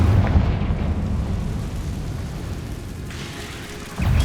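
Confringo blasting spell from Hogwarts Legacy bursting in a loud, broad explosion that rumbles and decays over a few seconds, with a second impact thumping in near the end.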